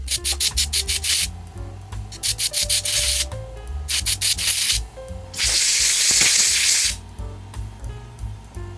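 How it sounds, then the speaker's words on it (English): An air compressor blows short bursts of hissing air into a laptop's cooling fan to clear dust, first in quick rapid puffs, then longer sustained blasts, close and loud, with no talking. "I'll use my air compressor and as usual, I'll have to stop the fan from spinning because that might damage the fan itself"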